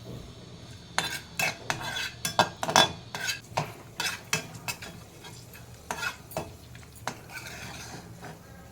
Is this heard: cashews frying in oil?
yes